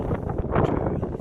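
Gusty wind on a windy April day in Stavern, Norway, on a hospital rooftop, rumbling and buffeting the microphone in a dense, continuous low roar through the whole brief moment.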